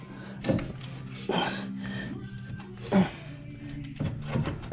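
Metal parts of a Honda Pioneer 500 gear assembly scrape and clunk as they are dragged forward, several rough sliding rubs and knocks close up over a low hum.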